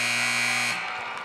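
A loud, steady electronic game-end buzzer sounds at a girls' high school basketball game between the Window Rock Lady Scouts and the Wildcats, holding for under a second before cutting off into arena ambience.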